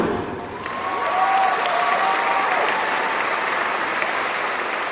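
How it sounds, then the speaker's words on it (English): A recorded applause track plays at a virtual talk event, a steady wash of clapping and light crowd noise that swells after a moment and holds loud and continuous. "you came here prepared with your own applause track"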